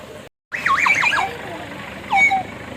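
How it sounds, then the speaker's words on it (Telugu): Two bursts of shrill, squealing bird-like calls close by in Tirumala, a longer warbling one followed by a brief rising cry, over quiet background hum. "విచిత్రమైన పక్షులు అరిచినట్టు సౌండ్ అయితే వినిపిస్తుంది"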